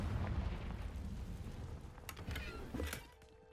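A Confringo blasting spell in the Hogwarts Legacy game explodes with a low, rumbling boom, followed by a couple of sharp crackling bursts before it fades out.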